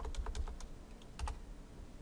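Keys clack on a computer keyboard in a quick, uneven burst of taps, with a short pause and a few more strokes, close and fairly soft over a low room hum.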